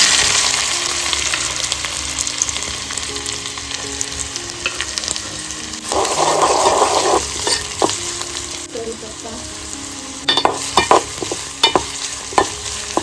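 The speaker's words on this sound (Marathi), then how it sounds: "कांदा सर्व मस्त परतवून घेतलेला आहे" Onion frying in oil in a home kitchen, the base for a dried karandi fish curry, sizzles steadily throughout with clinks and scrapes of stirring, a few sharper knocks near the end, and no talking.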